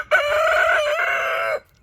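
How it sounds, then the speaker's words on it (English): A backyard rooster gives a single loud, close cock-a-doodle-doo, a clear drawn-out crow lasting about a second and a half, then silence. "my particular rooster is he starts crowing more when I'm making a video and talking"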